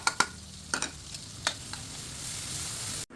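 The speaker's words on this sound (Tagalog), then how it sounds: "Tapos ay nagbawas lang tayo ng mantika at sinunod na natin tong ating mga sibuyas." Sliced onions sauté in hot cooking oil for beef caldereta, with a steady close sizzle punctuated by several sharp scraping stirs of a utensil against the pan, no speech.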